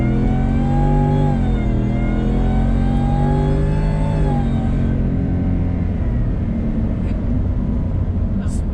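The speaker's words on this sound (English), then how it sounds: "Smooth acceleration, no jerking, no hesitation." A 770-horsepower 2020 Shelby F-150 pickup truck accelerating, a loud, steady engine note climbing in pitch for several seconds, then shifting to a rougher, lower roar as it changes gear, with no talk over it.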